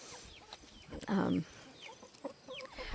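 A hen gives a short burst of clucking, with faint bird chirps scattered around it in the background.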